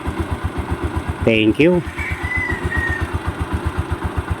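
A motorcycle engine idles after a tune-up with a steady, even putter of firing pulses, close and continuous, while someone talks briefly over it.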